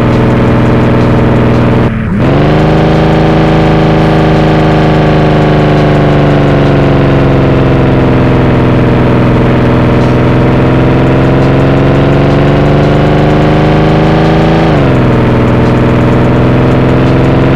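A steady, loud video game car engine idling with a smooth mid-pitched hum, briefly dipping and rising in pitch twice as if lightly revved.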